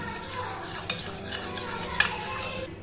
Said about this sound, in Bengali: এখন আমি খুব ভালো করে মিশিয়ে নেব।